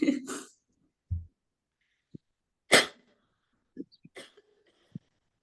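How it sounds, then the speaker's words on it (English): A person with an allergy cough coughs several times in short, separate bursts spread across a few seconds, close and fairly quiet, with brief silences between. "I have a little allergy cough. Sorry about me. I just need to cough a bit."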